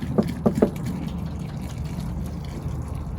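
Water is poured onto organic seed starter mix in a few short splashy gurgles at the start, then a soft, steady trickle continues quietly underneath.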